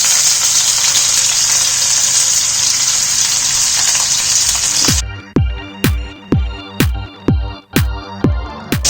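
Chopped onion dropped into a pan with cumin seeds for spinach sabzi, starting as a loud steady sizzling gush, then giving way to a run of sharp, regularly spaced clinks or taps close by, with no talking.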